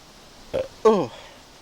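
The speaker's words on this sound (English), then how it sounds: "excuse me while I burp. Oh, it is very carbonated." A single throaty burp follows a swig of very carbonated Stiegl Radler beer. It is short and close, preceded by a brief soft vocal blip, in an otherwise quiet room.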